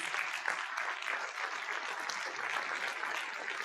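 An audience at a school district event applauds staff who work with vulnerable students. The clapping is steady and fairly faint, and no voices come through over it.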